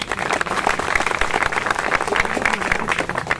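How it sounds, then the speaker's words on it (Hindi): An audience claps through a Hindi-language public address about recruitment, a dense, even patter of applause sustained for a few seconds at moderate loudness. "ताली बहुत कमजोर है भाई।"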